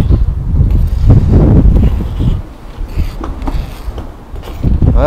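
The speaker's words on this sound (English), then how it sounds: "Man, it's windy out here." Gusty wind buffets the microphone outdoors during bronze sword casting, a continuous low rumble that swells loudly through the first half, dips, then surges again.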